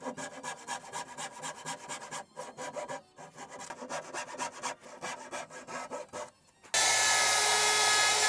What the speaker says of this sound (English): I'll take and saw a line here